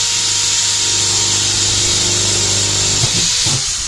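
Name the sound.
power drill running in reverse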